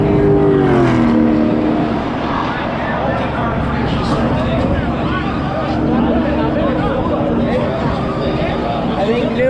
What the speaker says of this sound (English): Boy, that is a banged up, burnt up car over there pulling into the pits.